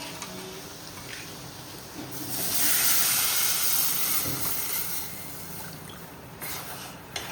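Soaked horse gram flour poured into a hot onion tempering in a pan sets off a steady sizzling hiss that swells loudly for a few seconds and then settles back, close, with no voices.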